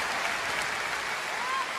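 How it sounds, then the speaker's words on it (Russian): A large studio audience at a televised talent show applauds in a dense, steady wash of clapping that holds throughout. "Аплодисменты!"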